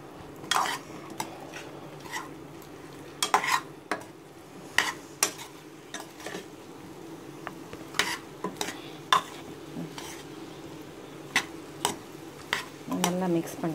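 A spoon stirs Andhra chicken curry masala in a pan, with repeated scraping and clinking strokes in an irregular rhythm over a low, steady sizzle, close and moderately loud.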